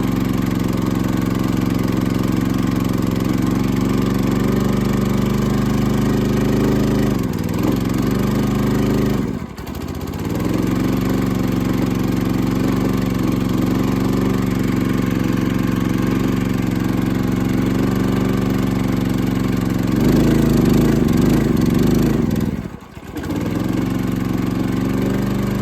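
Ported Husqvarna 61 chainsaw idling loudly with the choke on, a steady rough mid-pitched drone with brief dips and surges in speed.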